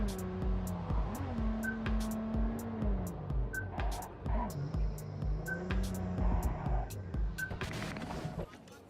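Engine drone of a car driven in Cyberpunk 2077, pitch climbing and dropping through revs and gear changes, with a steady ticking pulse and periodic short beeps, close and continuous before thinning out at the end.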